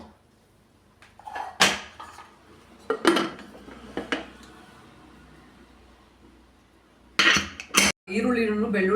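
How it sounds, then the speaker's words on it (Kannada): Metal clatter and clinks from a pressure cooker as its lid is handled and shut in a home kitchen, several sharp knocks spaced out, then a last cluster of louder bangs at the end. "ಈಗ ಕುಕ್ಕರ್ ಮುಚ್ಚಿಬಿಟ್ಟು ಒಂದು 3 ವಿಸಿಲ್ ಇಟ್ಕೊತೀನಿ."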